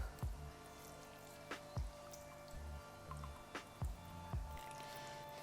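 Water added to a biga sourdough mixture drips and splats in a few distinct, irregular plops over a steady background hum, close by with no talk.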